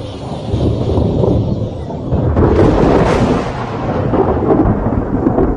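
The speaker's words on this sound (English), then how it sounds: "Distant storms could mean that the rains are finally on their way." Thunder in Zambia rumbles long and deep from a distance, swelling into a louder roll midway and then fading into a low, lingering grumble.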